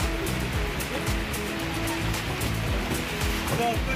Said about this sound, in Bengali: ঝুম বৃষ্টি নেমেছে।